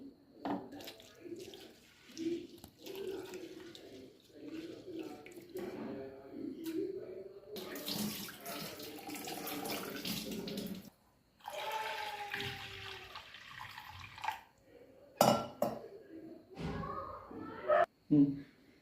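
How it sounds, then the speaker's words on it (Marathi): Moong dal is rinsed clean in water, with bursts of sloshing and splashing that swell and fade over several seconds while a voice speaks at times. "मुगाची डाळ घेतली आहे हिला आपण स्वच्छ धुवून घ्यायचं"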